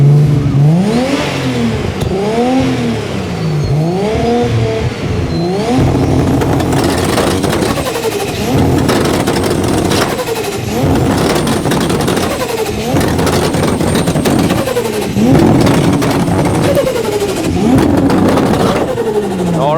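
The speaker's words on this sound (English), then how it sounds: "we're going to hear lovely Supra sing" At a car-show sound-off, a Toyota Supra engine revs loudly and close, first in a few rising and falling blips, then in a long series of repeated hard rev bursts with a raspy, buzzing exhaust note.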